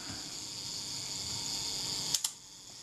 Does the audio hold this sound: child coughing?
no